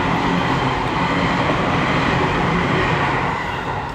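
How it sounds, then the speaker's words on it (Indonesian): A train rumbles past at night in Japan, a loud, continuous, broadband roar of wheels and carriages that holds steady and starts to fade at the very end. "ada kereta lewat"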